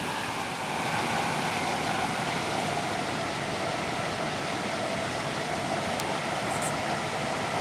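A train in the Stepford County Railway video game rolls steadily into a station, a continuous broadband rumble and rush of wheels and engine at even loudness throughout, with no talk.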